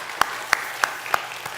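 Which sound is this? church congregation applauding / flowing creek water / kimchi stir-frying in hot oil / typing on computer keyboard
church congregation applauding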